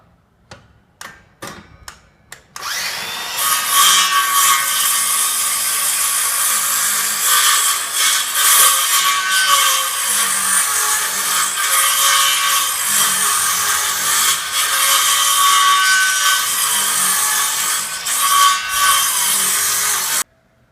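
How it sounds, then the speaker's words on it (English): Wood being cut down with a series of short, thin saw cuts while building a motorized couch, a few sharp knocks followed by continuous rapid rasping strokes, close and loud. "I'm going to make a bunch of short, thin cuts and just plane this out until we get to here."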